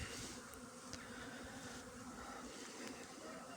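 A steady insect buzz of a bee hums continuously and close throughout, with a few faint clicks over a constant outdoor background.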